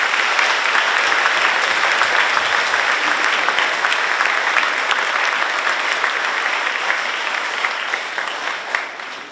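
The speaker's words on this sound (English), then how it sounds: "Let's give those students a nice round of applause." An audience applauds students being honored at a career signing day, steady dense clapping throughout that fades slightly at the end.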